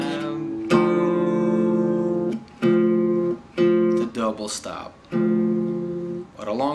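Acoustic blues guitar double stops from Skip James' Illinois Blues, several ringing two-note strikes separated by short gaps, close and clear, with someone singing or humming briefly between them.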